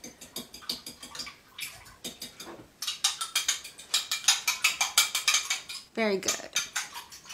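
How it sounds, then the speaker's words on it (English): A fork beats an egg against the side of a mixing bowl for Irish soda bread, a quick run of bright clinks and scrapes close by, with a brief spoken remark and a short pause between bursts. "use that same fork, you might as well, to mix it together"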